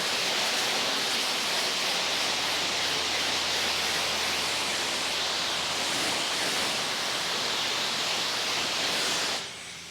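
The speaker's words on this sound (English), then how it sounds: "Let's just put it through a rainstorm. Wash off the front of the tent here." Water spray hisses steadily and loudly against a rooftop tent, rinsing red dirt off its front, a continuous close rushing wash that cuts off abruptly near the end.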